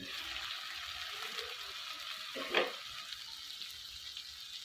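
Spiced food frying in oil in a pan on a gas stove, giving a steady bright sizzle throughout, with one brief louder scrape or stir near the middle.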